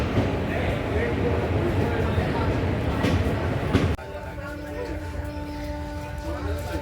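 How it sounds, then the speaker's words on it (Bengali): Train rumbling and rattling steadily nearby on an early-morning trip in Bengal, shifting partway to a quieter hum with faint tonal whine; voices can be heard alongside. "এইটা হচ্ছে আমাদের ট্রেন।"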